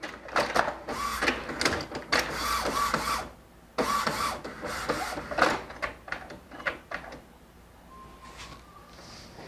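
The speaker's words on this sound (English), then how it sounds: "The printer will run a cycle to recognize the cartridges again." An Epson inkjet printer fitted with a continuous ink system runs its cartridge recognition cycle: bursts of mechanical whirring and clicking from the print head carriage, with short pauses and a fainter tonal motor whine near the end.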